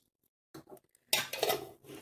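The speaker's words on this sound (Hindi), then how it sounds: "ये उड़द की दाल डाल रही हूँ" A spoon scrapes and taps against a metal pan as small dry urad dal lentils are tipped in for tempering, a brief close clatter and rustle after near silence.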